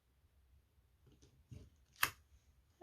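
Scissors cut a fish shape from card for a handmade card, a few quiet snips in close succession with one sharper cut near the end, in an otherwise quiet room.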